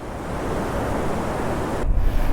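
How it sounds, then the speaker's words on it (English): Rushing river water on a forest road to Athirapally, a steady loud broadband roar that fills the whole moment with no talk, with a brief heavier surge near the end. "Look at the amount of water."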